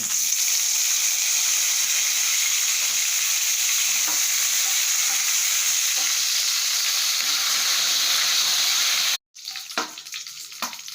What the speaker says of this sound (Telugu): నెక్స్ట్ పచ్చిమిర్చి వేసేసుకొని ఫ్రై చేసుకుని